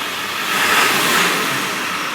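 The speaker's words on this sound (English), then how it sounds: "we're about to do the snap test section." A diesel engine revved hard for a smog snap test, one broad rising roar that swells and holds for about a second before easing back, loud and close with no talk.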